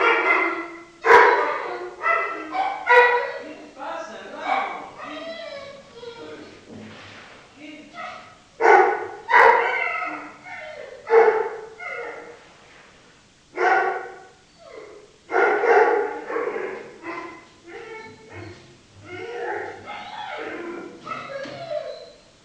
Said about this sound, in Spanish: son mis perros que ladran